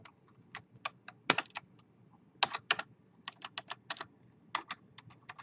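Code is typed on a computer keyboard in quick, uneven runs of light clicking keystrokes with brief pauses, close and fairly quiet against a soft background.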